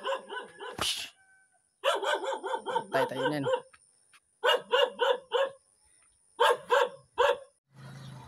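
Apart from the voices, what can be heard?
dog barking at a public market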